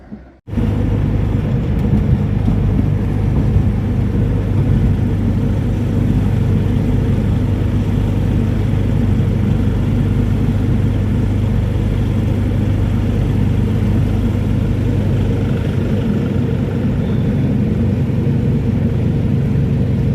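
A tempo truck drives along the road with a loud, steady low engine rumble and road drone that starts abruptly and continues unbroken throughout.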